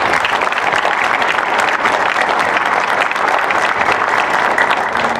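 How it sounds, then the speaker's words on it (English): An audience at an evening League of Women Voters forum on the Oxnard recall election applauds its volunteers: loud, steady, dense clapping from a sizable crowd, continuous throughout with no break. "I want to give a round of applause to all of our volunteers tonight"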